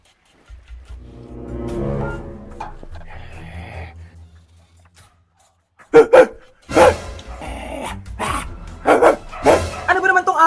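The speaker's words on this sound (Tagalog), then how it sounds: "Ano ba naman tong asong to?" A dog barks and whines in a home setting, with loud sharp barks in a burst near the end following softer yelping sounds earlier, and a person talking at the same time.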